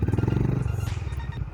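A Honda CB350 Deluxe Pro motorcycle engine thumps in a close, steady low rhythm while the bike is ridden and turned on a narrow road, loud and without talk.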